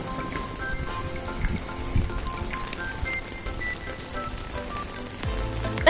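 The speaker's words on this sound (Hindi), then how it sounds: "सुबह सुबह बहुत ही ब्यूटीफुल बारिश हो रही है।" Morning rain falls steadily at a luxury resort in the Maldives, a dense continuous patter of drops on surfaces, close and even throughout, with no talk.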